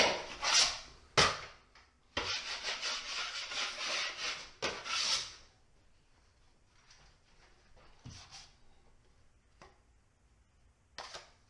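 A drywall knife scrapes skim coat along wall angles, making several loud rasping strokes up close early on, then quieter occasional scrapes and taps.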